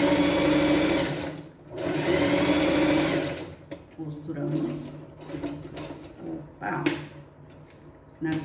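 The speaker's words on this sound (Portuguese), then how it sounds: "E vamos lá, costurando toda a volta." A sewing machine stitches around a pet backpack in bursts: a rapid, close mechanical whir that runs steadily, pauses, then resumes in shorter spurts, with someone talking over the quieter stretches.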